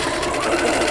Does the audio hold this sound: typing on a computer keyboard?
no